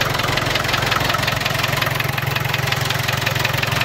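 A diesel engine with screw-in cylinder-head glow plugs runs steadily just after a heat-gun-assisted start, idling with a loud, even, rapid knocking chug and no voices.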